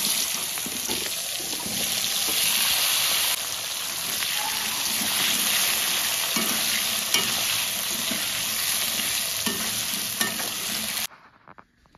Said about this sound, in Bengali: মাছ ভাজা তেলে আমি আলুগুলো ভেজে নেব।